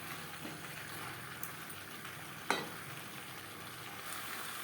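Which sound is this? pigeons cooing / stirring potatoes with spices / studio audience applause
stirring potatoes with spices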